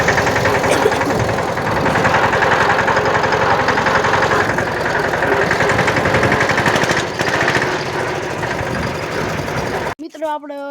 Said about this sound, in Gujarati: આપણે ટ્રેક્ટરની ચક્કર મારીને આવી ગયા